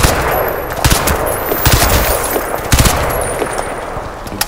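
Gunfire in Crysis 2, loud rapid machine-gun bursts and sharp shots cracking repeatedly over a dense noisy background, with no talking.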